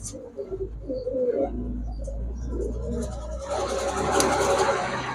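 Mukhi pigeons, a male among them, coo in low rolling bursts close by in a loft; a rougher, broader rustle swells toward the end.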